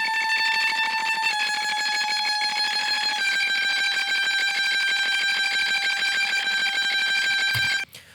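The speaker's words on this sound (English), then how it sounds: "giving the illusion of having a double-tracked, panned left and right guitar here" Two electric guitars, double-tracked and panned hard left and right with delay on both, recorded through a cheap earbud microphone. They hold a steady, sustained, bright chord that shifts partway through, then cut off abruptly near the end.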